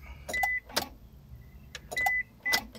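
A 2000 Honda Passport's fuel pump relay clicks sharply as the key is turned to crank, several distinct clicks in two groups with short whining tones between, heard up close over a quiet low hum.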